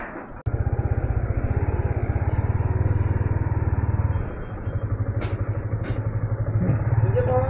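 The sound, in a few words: motorcycle engine running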